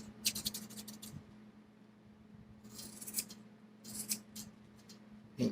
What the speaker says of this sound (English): Just cut straight across.